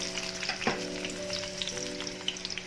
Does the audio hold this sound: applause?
no